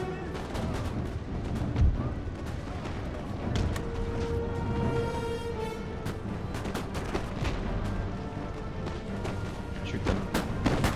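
Battle noise from the video game Empire: Total War, with dense volleys of musket and cannon fire crackling and booming continuously, layered over a thick rumbling background.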